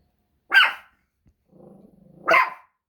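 A dog barks indoors, two sharp barks about two seconds apart, heard alone in a quiet room with a soft low growl between them.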